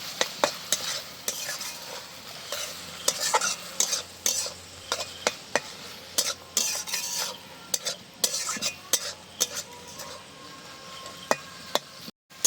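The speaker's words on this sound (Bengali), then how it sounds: "এবার একটু নেড়ে চেড়ে নামিয়ে নেব।" Chicken bharta with whisked yogurt stirred in a pan, with a soft sizzle beneath a run of sharp, irregular scrapes and clinks of a spoon against the metal, close and alone with no voices.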